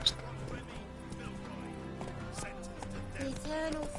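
A horse in The Witcher video game whinnies near the start, then its hooves clip-clop along under game music and ambient effects, moderately loud and continuous.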